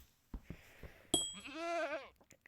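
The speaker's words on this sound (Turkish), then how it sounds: "Keçiler çıktı." Minecraft goats give a wavering, nasal bleat after a few soft clicks and a sharp tap, the cry close and fairly loud and trailing off, with no talking over it.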